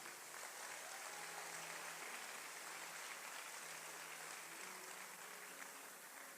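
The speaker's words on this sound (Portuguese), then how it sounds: "Dá uma salva de palmas para os universitários." A large crowd applauds university students, the clapping forming a dense, even wash that holds steady at a distance.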